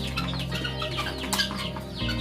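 Guinea fowl call in a dense, close flock, with overlapping harsh clucking cries running continuously and no talking.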